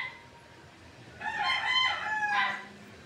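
A rooster crows once, a clear drawn-out cock-a-doodle-doo at moderate distance over quiet outdoor background, rising then breaking off in a final strained note.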